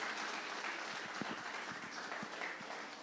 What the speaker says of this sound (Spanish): Vamos a recibir a nuestro pastor Andrés con un fuerte aplauso y que Dios esté con nosotros el día de hoy.